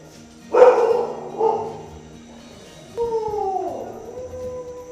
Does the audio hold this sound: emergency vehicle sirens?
no